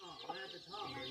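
Chickens cluck faintly in a brief snatch of sound at a rural Thai homestead.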